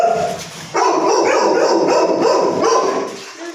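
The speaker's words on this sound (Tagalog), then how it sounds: "Ayan, daming aso ni Ramil, oh" Several dogs at a house in Baguio City bark loudly and close by in a short burst of overlapping barks, yips and a howl-like note.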